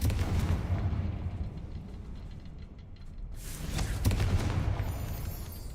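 A Confringo fire spell explodes in the video game Hogwarts Legacy. Loud booming blasts burst out over rumbling game sound, with a sharp crack near the end.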